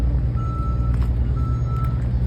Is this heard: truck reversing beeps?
yes